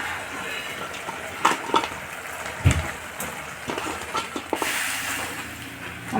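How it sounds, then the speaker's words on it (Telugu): Chicken pieces for chilli chicken are tossed in a hot pan, giving a steady, dense frying hiss broken by scattered clinks and scrapes of tossing, close up with no talking. "ఇప్పుడు ఇందులో చికెన్ ముక్కలు వేసుకున్నామండి బాగా టాసింగ్ చేసుకున్నాము"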